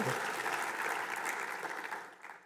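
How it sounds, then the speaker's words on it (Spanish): A church congregation applauds loudly during worship, a thick, continuous patter of clapping that holds steady and then thins out toward the end, heard from a slight distance. "Vamos a dar ese aplauso fuerte al Señor, a Dios Todopoderoso."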